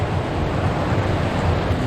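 Water running and splashing inside a flooded tunnel where the passage has washed away, a steady broadband rush that stays close and constant without any voices.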